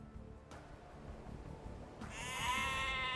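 A sheep bleats in the video game Age of Empires 2 DE on an Xbox Series S. One clear, wavering bleat rises late, after a quiet stretch with a faint tap.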